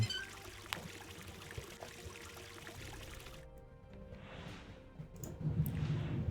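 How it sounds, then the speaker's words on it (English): Water pours into a canteen in a steampunk hidden-object adventure game, a soft continuous trickle and splash that grows fuller and louder toward the end as the vessel fills. "Let's try filling our canteen."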